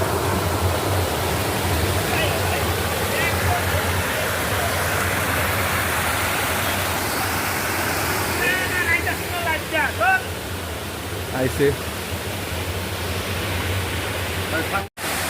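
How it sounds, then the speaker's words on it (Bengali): The main Chamanu waterfall in Tripura roars as a loud, steady wash of rushing water, close and unbroken throughout. Brief chirpy voices speak over it partway through. "এই দেখো মেইন ঝর্ণা"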